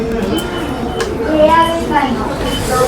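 Commuter train at Shinjuku station in Japan, a steady rumble of rolling carriages with rising and falling tonal whines, loud and close, under faint voices.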